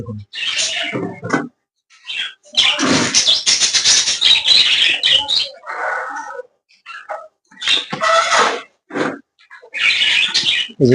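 A pet bird, held and fed half a spoonful of ginger juice, squawks close up in loud, harsh, erratic bursts separated by short pauses, with no talking.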